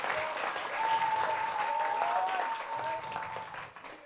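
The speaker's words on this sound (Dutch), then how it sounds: "Heel veel applaus voor onze schrijver en verteller vandaag, Gerard Sollemans." An audience at a youth dictation contest results ceremony gives steady, fairly soft applause lasting a few seconds, with a faint tonal whistle-like sound running over the clapping before it fades.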